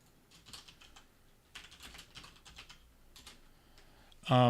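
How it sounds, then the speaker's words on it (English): Someone types on a computer keyboard in soft, close bursts of clicking with short pauses between, before a loud voice cuts in at the end. "I'll type his name."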